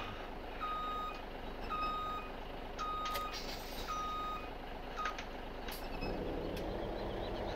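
Truck in a video game backing in, with regularly repeating electronic reversing beeps over a low engine hum and a few clicks, no talk.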